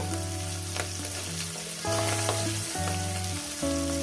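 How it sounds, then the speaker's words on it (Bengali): Small mourala fish fry lightly in a pan with a steady, close sizzle running throughout, partly covered by tonal background music with shifting notes. "হালকা করে আমি ফ্রে হালকা করে ভেজে নেব"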